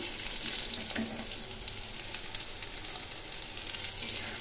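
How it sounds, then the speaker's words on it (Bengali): Pointed gourd pieces fry in hot oil in a pan, a steady close sizzle with light stirring scrapes running throughout, no voices. "পটলগুলো আর একটু ভেজে নেব"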